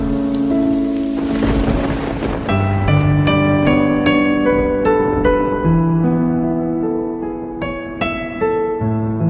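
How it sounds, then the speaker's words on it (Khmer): Heavy rain pours down on a house in a steady, loud, unbroken wash, with bright ringing tones layered over it throughout. "ភ្លៀងកូនផ្ទះខ្លាំងណាស់"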